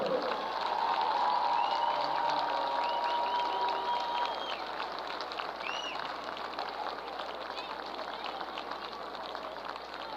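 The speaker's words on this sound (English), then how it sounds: "one more round of applause for the legendary Mr. Scott Solberg" A stadium crowd at a high school football game applauds at halftime to honor a longtime announcer, a steady wash of clapping and distant cheering that fades slowly, with a few whistles heard faintly.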